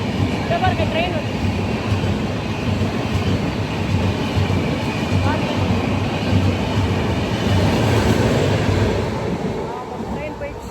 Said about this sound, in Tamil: ட்ரெயின் போயிடுச்சு. இது வந்து எக்ஸ்பிரஸ்.